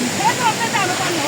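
A waterfall beside a muddy hiking trail at Sibajhatta rushes nearby, giving a loud, steady broadband roar with a few gurgling ripples.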